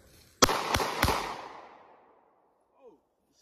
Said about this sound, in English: I'm finna shoot. Fire in the hole.